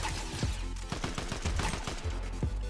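Rapid gunfire in the video game Fortnite: a quick, steady string of sharp shots at close range, crackling continuously with no pauses.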